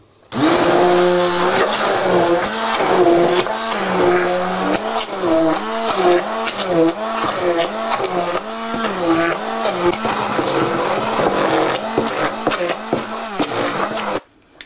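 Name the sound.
mixer beating cupcake batter of flour, sugar, butter, eggs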